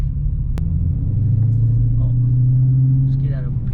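A 1970 Dodge Dart Swinger 340 with an aftermarket exhaust rumbles steadily at low speed, a deep continuous drone with a faint sharp tap near the start.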